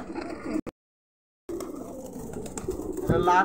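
Pigeons coo softly nearby at a pigeon market, with a brief silent gap near the start and some background voices and rustling.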